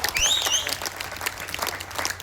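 Audience at a Hindi poetry recital claps briefly, with a thin, scattered patter of hands and a high whistle near the start, fairly faint and without talk.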